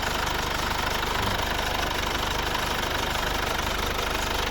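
A 2.2-litre four-cylinder diesel engine in a 2011 Mercedes-Benz GLK 4MATIC idles steadily with a low, knocking rumble, close by and unchanging, no voices.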